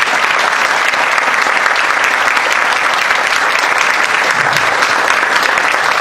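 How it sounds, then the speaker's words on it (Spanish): Sustained, steady audience applause at a school book presentation for a school-management title, dense clapping from a sizable crowd that stays loud and even throughout, with no speech over it. "para quien pido un caluroso aplauso"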